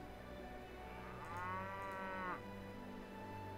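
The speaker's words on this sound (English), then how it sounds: "Come on, moo-moos." A single drawn-out cow moo from a cattle herd in Mount & Blade: Warband, rising and falling over about a second, heard close and clear above a steady low ambient hum, with no talking.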